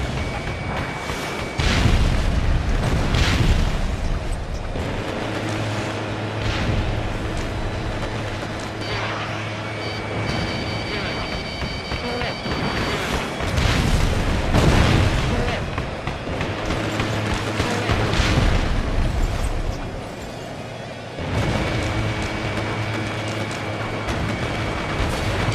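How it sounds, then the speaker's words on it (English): Repeated heavy bombing blasts in the air-combat game Ace Combat Infinity, deep booming explosions rolling in several waves over a constant engine drone, loud and close with sustained rumbling between hits. "We're being bombed again."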